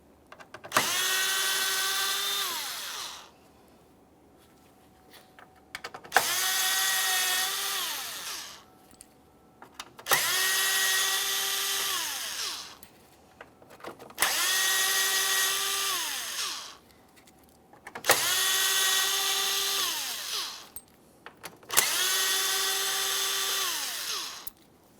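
A power drill backs T15 screws out of the front grille of a GMC Acadia, six separate whirring bursts of a few seconds each, each rising and falling in pitch with quiet gaps between, close and clear.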